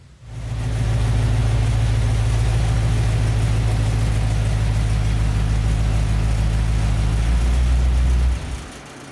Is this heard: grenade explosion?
no